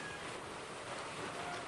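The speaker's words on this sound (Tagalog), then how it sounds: "May uwan na naman." Steady rain pours down outdoors in a rural home without power, a dense, unbroken hiss filling the whole moment with no talk over it.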